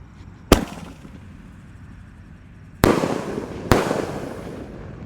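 A lotus firecracker (mercon teratai) goes off in three sharp, loud bursts: one early crack, then two more close together a few seconds later, each trailing into crackling hiss and noisy fizz.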